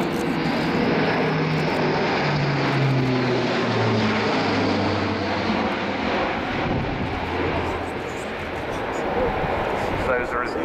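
An Airbus A400M with four Europrop TP400-D6 turboprop engines in a flying display, a loud, sustained propeller drone whose pitch slides downward as it passes, with an announcer talking over it.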